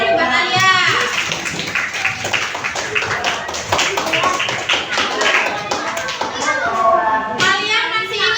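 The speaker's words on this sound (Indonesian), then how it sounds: "beri tepuk tangan yuk buat Alia." Third-grade elementary pupils clap together in a classroom for a classmate. It is a busy, uneven clatter of small hands, with children's voices and an adult voice speaking over it.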